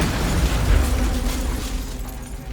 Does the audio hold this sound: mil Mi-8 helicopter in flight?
no